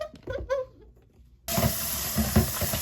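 Tap water rushes steadily onto food being rinsed by hand in a home kitchen, a broad hissing gush that starts abruptly after a short spoken stretch and continues with small splashy bumps.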